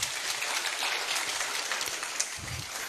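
Steady, dense crowd applause filling the whole stretch, an even wash of many hands clapping with no voices standing out.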